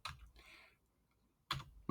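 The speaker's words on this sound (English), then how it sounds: "My keyboard has decided to give me trouble here." Quiet clicks on a computer keyboard come in two short bursts of typing with a pause between them, close by, with no talking.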